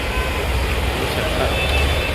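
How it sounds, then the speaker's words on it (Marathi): Constant road traffic on a busy Mumbai street near Hutatma Chowk makes a loud, continuous low rumble of passing vehicles, with someone talking over it. "इकडे ह्या रस्त्याला कायमचं ट्रॅफिक असतं, कायमचं."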